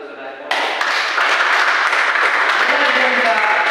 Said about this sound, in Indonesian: Bisa diberikan tepuk tangan untuk saudara.